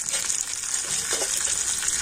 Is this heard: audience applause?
no